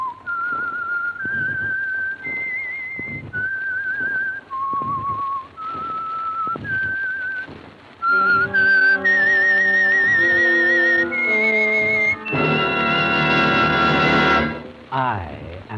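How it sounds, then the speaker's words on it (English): A whistled melody opens the Signal Oil program's radio theme for The Whistler, a lone, clear tune in a slow series of sustained phrases, then swelling into a loud full orchestral passage near the end. "the signal to listen for is this whistle that identifies the signal oil program"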